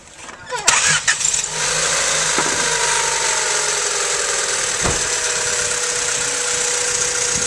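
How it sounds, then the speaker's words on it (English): A car engine cranks briefly and catches, then settles into a steady idle with a continuous close-up drone, during an ignition timing adjustment. "After doing so, we turn on the car"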